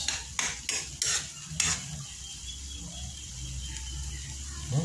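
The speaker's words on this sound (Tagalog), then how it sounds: "Ganyan ang pagluluto ng kamatis." Spoon scraping and clinking against a pan while tomatoes cook, a few quick metallic strokes at first, then a soft steady sizzle settling underneath, close and fairly quiet.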